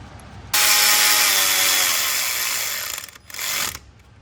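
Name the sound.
wrench tightening oil filter housing bolts on BMW 335i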